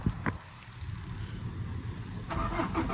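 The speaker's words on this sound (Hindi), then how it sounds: "गाड़ी स्टार्ट हुई है" A car with a failing oil power steering pump starting up, a brief cranking burst followed by a steady engine idle hum, with a further rise near the end, close and fairly loud.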